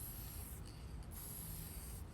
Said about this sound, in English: I am coating them with varnish spray to seal the colors